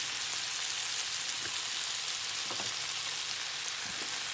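Stinging nettles hit a hot pan and fry with a dense, even sizzle that holds steady and close throughout, with faint crackles scattered through it and no talking.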